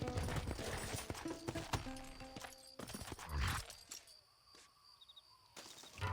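Horse hooves clop in an uneven rhythm amid ambient game noise in Red Dead Redemption, with a few clicks and a faint whinny-like sound near the middle.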